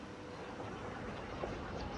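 Steady rumble and rolling clatter of a train arriving at a station in the city-builder Cities: Skylines, a continuous moderate wash of rail noise with no speech.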